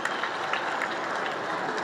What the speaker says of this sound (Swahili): Tumpe makofi tafadhali.